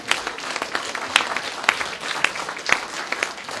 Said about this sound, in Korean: 다시 한번 박수로 두 분을 환영해 주시기 바랍니다